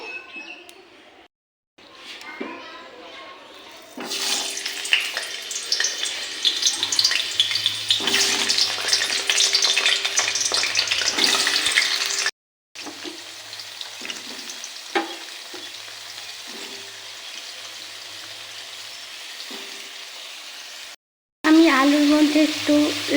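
Chicken fries in a pan with a steady broadband sizzle and occasional stirring scrapes, loud and close, with a couple of brief cuts breaking the sound.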